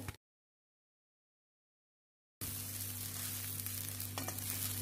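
Rice stir-fried with onion, cabbage, frozen peas and Ching's masala, a steady sizzle with faint stirring scrapes and a low hum, heard after a stretch of near silence at the start.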